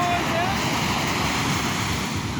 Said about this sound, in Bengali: পানির শব্দ শোনা যায় না ওই দেখ বড় বড় ঢেউ